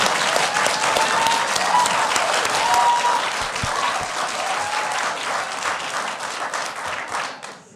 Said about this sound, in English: I'll give you 5 seconds of my time for applause